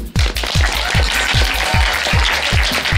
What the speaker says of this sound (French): Jérémy Isaac, que je vous demande d'applaudir.